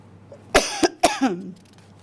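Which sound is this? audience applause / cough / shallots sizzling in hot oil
cough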